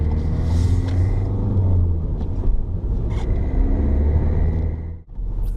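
A car slows with braking and a gear change at a roundabout, heard from inside as a steady, loud low engine and road rumble with a brief dip near the end.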